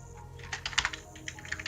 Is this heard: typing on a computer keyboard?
yes